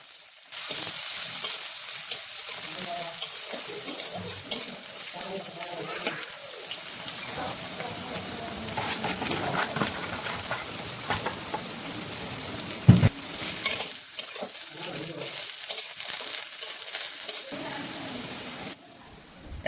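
Whole spices with chopped onion and garlic frying in oil in a pan, a steady close sizzle with stirring scrapes throughout, birds cooing faintly in the background.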